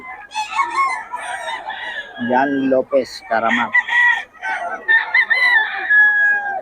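A gamefowl rooster crows loudly and close by, a short strained call in the middle, while someone talks over it before and after.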